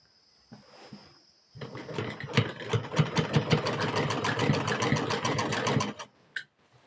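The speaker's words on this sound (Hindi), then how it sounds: "यहाँ से हमें सिलाई मार लेनी है।" A sewing machine stitching a simple suit runs in a fast, even rattle of needle strokes for about four seconds, close and clear, then stops abruptly.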